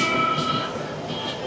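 A train at Charni Road railway station in Mumbai, a steady rumble with a faint high squeal from the wheels, heard close on the platform while a voice speaks over it.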